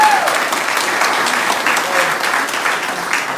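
A crowd at a chamber of commerce ribbon cutting for Woodland Realty gives sustained, dense applause, loud and steady throughout with no break.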